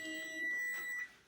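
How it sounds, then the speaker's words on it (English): A kitchen timer goes off, a high electronic tone ringing steadily for about a second before cutting out. "the timer is about to go off for the rice"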